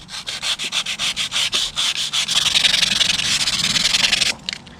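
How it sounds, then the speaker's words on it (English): Sanding aluminum on a Harley motorcycle by hand: quick rhythmic rasping strokes that blend into continuous scrubbing before stopping abruptly, close and clear with no talk. "And then you're just going to sand it until it's all even."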